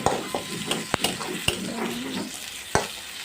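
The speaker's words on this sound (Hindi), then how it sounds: "उसके बाद उसमें प्याज मिर्ची डाल के अच्छी तरीके से इसे भून लें।" Onion and chili fry in spices in a hot pan while a utensil stirs and scrapes, with occasional sharp clinks against the metal, close up and without talk.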